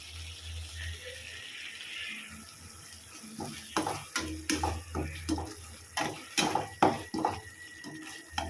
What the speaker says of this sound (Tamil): கொஞ்ச நேரம் கிளறி விடுங்க